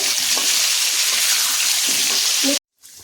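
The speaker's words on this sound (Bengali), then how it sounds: "এবার আমি আলুগুলো দিয়ে দিচ্ছি। মানে হলুদ দিয়ে দিচ্ছি। হলুদটা দেওয়ার পরে ভালো করে এবারে মিশিয়ে" Potatoes sizzle steadily in hot oil with turmeric while being stirred, a loud continuous frying hiss with occasional scraping, cutting off abruptly near the end before quieter sizzling resumes.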